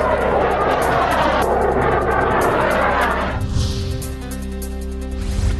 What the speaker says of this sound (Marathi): काश्मीरमध्ये लढाऊ विमानांच्या घिरट्या